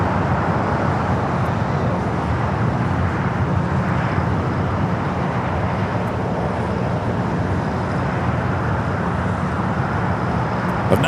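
An airliner departing LAX on a flight to Portland, heard as a continuous broad distant jet roar that stays steady, with no talk.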